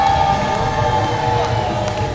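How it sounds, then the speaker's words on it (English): Children in the crowd at a wrestling event cheer, part of a dense, constant roar of crowd noise with sustained tonal horns or whistles sounding throughout. "We have kids cheering for crazy people, kids are cheering for wolves."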